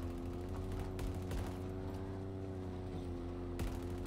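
Marines firing in the Halo Infinite campaign, bursts of gunfire over a loud droning vehicle hum, with a few sharper cracks standing out near the start and end.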